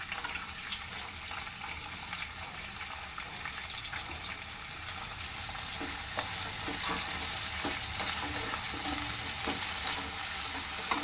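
Onion pieces and green chilies fry in a pan for a ridge gourd curry, a loud continuous close sizzle that intensifies partway through, with light crackles and no talking.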